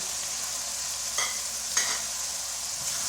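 Cut okra tossed into masala in a pan and stirred, with a steady soft sizzle and two brief scraping stir sounds, fairly quiet and with no talking.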